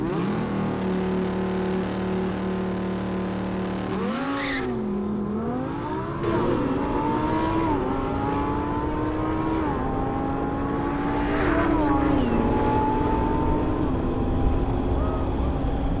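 A Ferrari and a Lamborghini Performante launch side by side in a supercar drag race, engines roaring loudly with rising revs broken by sharp gear shifts as they pull away.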